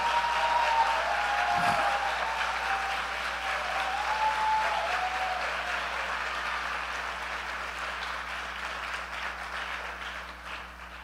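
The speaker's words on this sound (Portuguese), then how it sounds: "eu queria pedir à igreja que desse um forte aplauso ao Senhor pela vida da pastora Denise." A church congregation gives a long, strong round of applause, the sustained clapping filling the hall at an even level before slowly tapering off, with a faint tone held in the background.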